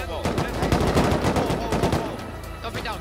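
Rapid bursts of AK rifle fire in the survival game Rust, loud and dense, rattling in quick volleys and trailing off near the end.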